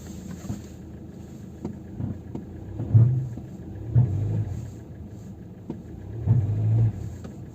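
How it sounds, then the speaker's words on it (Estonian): A 2009 Kia Ceed's engine gives low, near rumbling surges as the car strains against its applied handbrake and comes to a stop, with a steady idle underneath and no talking. "Proovime käsipidurit. Nii, käsipidur peale."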